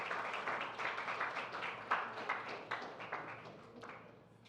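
Applause from a conference audience as King Letsie leaves, a soft sustained patter of many hands clapping that gradually fades, heard at a distance.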